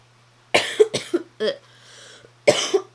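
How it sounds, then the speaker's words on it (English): Someone coughs repeatedly in short, harsh bursts, with a brief pause before a final pair of coughs. "So I just started coughing a bunch on accident."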